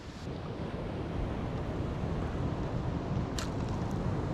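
Ocean waves wash steadily onto a beach that is littered with plastic trash, making a continuous broad roar with heavy wind rumble against the microphone and no talking.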